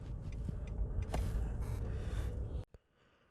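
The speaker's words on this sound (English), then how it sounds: "I'm going to put the handbrake down and the car hopefully should move" A car's engine runs with a low rumble as the handbrake is released and it pulls away, steady and close, then cuts off abruptly into near silence.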